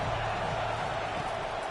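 A stadium crowd in a football video game roars in a dense, sustained wall of cheering that holds steady throughout the short stretch, with no single voice standing out.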